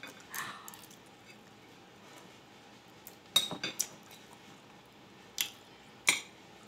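Metal cutlery clinks against a plate during a home-cooked lunch of sautéed mackerel sardines with egg, a few sharp, separate taps over a quiet room, with no one talking.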